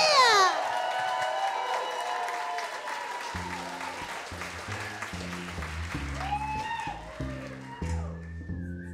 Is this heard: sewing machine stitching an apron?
no